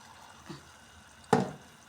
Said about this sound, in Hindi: थोड़ा सा छींटा पानी का लगाएं ताकि ये नीचे ना लगे।